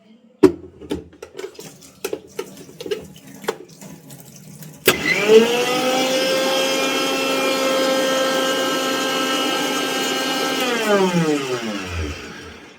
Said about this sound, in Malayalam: ഇത് കഴിഞ്ഞിട്ട് ബ്ലെൻഡ് ചെയ്യാൻ പോകും.